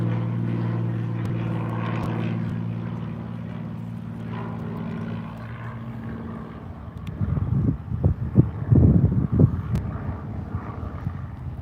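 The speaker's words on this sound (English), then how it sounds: "There's a plane flying overhead right now" A fixed-wing plane passes overhead near an airport runway, a steady broadband engine drone that swells and fades with gusty wind buffeting the microphone outdoors; no talking.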